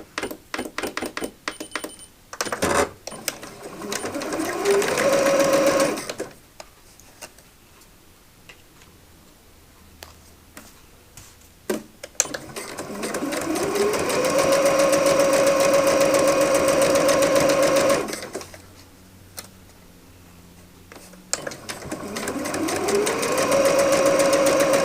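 A sewing machine stitches faux leather for a wallet in two long, loud, steady runs. Short gaps of quiet handling separate the runs, and each run begins with a rising whir.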